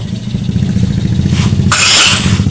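A motorcycle starter grinds roughly and continuously, close and loud, with a harsh whirring burst partway through; the starter spins without engaging, so the engine never catches.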